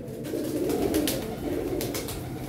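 Teddy pigeons coo in soft, repeated throaty rolls, close and continuous, with faint chirps and light rustling behind them.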